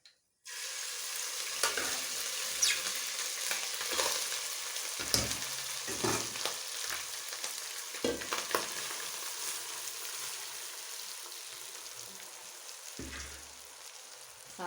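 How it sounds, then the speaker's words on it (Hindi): Rice frying in hot oil in a pot for sweet zarda, a steady loud sizzle that starts abruptly and runs throughout, with a few clinks of a spoon stirring against the pot. "अब मैं इसमें चावल डालूंगी।"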